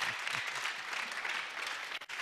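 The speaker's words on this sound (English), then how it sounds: "Give a clap for it to Jesus." A church congregation at an evangelism service applauds steadily, a dense, continuous wash of clapping heard from within the crowd that drops away briefly near the end.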